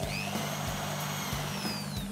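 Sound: power drill drilling holes in metal

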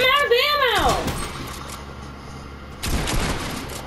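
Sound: gunfire in the video game Fortnite

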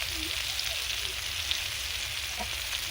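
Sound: pointed gourd frying in oil with chili powder

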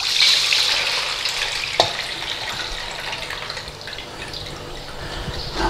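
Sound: draining cooked soaked peas for mushy peas

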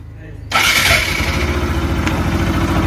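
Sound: Bajaj Pulsar RS 200 motorcycle engine starting

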